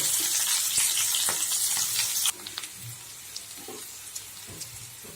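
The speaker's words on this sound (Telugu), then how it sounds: "చూసారా ఎండ్రాయిలు వేగి పటపట అంటున్నాయి" Dried prawns crackling as they fry in a pan, a dense hissing sizzle for a couple of seconds that cuts off abruptly, leaving quieter scattered pops and clicks.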